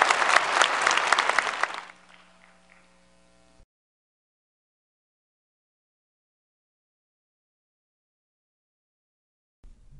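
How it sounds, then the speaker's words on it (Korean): Audience applause at a university conference, a burst of clapping that fades out within about two seconds, leaving near silence. "박수 보내주십시오"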